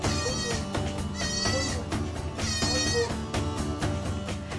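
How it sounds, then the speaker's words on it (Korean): A baby goat bleats in a rural mountain village, with several wavering cries rising over a dense, steady backdrop of music and ambient sound. "막내 수빈은 새끼 염소가 엄청 사랑스러운가 봅니다."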